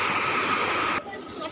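Water gushing from the gate openings of the Jurala dam during rain, a loud steady roaring rush that drops suddenly partway through.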